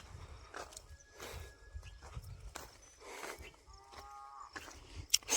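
Bullocks let out to graze on a farm during sorghum sowing low and moo faintly a few times at a distance, amid quiet rustling and soft hoof-like movement.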